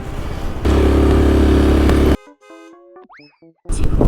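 A delivery motorcycle pulls away and rides off, its loud, steady engine drone running close for about a second and a half. The drone cuts to a bright, cartoonish springy boing effect, then the engine noise returns.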